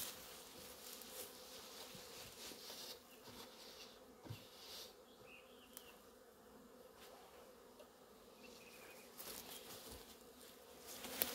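Honey bees buzz in a dense, steady drone around a beehive, with a few louder individual bees passing close over the constant swarm.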